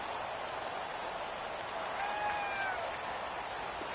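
Home stadium crowd at a football game, a steady wash of roaring and cheering noise with a faint whistle-like tone rising through it.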